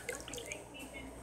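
A watering can sprinkles water over freshly planted crops in the farming video game Harvest Master, giving a brief, soft run of watery drips and trickles over a faint background bed.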